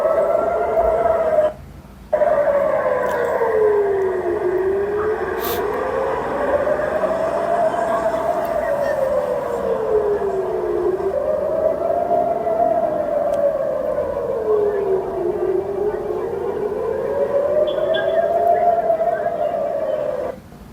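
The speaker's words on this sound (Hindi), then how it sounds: "तड़के सुबह सायरन की तेज आवाज़ों के बीच लोगों को अचानक सुरक्षित जगहों की तरफ भागना पड़ा" Air raid sirens wail over Haifa, Israel, in the early morning during an Iranian attack, a single steady tone sweeping slowly up and down in long repeating cycles, loud and sustained over a faint background hum.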